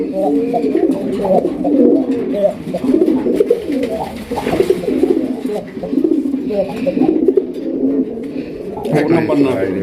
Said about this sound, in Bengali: রাসগোল্লা কবুতর দেখতেই পাচ্ছেন ডাকটা শোনেন